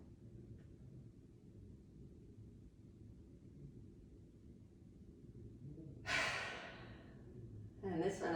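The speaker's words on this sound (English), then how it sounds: "I'm going to do 2 more breaths like that." Quiet, deep breathing during a relaxation exercise, a long stretch of low rumbling hush, then two close, airy exhales, the second one following shortly after the first.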